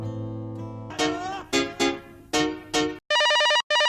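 A mobile phone rings with a melodic electronic ringtone: several separate tone bursts, then a steady repeating electronic pattern that cuts off briefly before resuming, loud and close.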